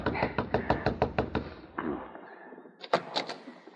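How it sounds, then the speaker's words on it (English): A quick run of light, evenly spaced knocks on a wooden cabin door, followed by a pause and a few more raps, close by. "quickly made his way to Nick's cabin and tapped on the door"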